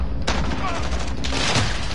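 Pistol shots in a shooter video game: two sharp cracks about a second apart over continuous busy game noise.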